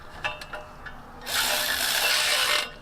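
A wrench works on stuck bolts of a 1984 Foxbody, with a few sharp close clicks of ratcheting followed by a sustained loud buzzing ratchet spin that stops abruptly.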